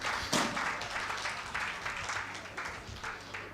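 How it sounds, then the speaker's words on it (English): An audience at an engineering conference claps steadily for about three and a half seconds, a dense, even wash of applause from a room of people, moderately loud with no clear voices. "Please, a round of applause."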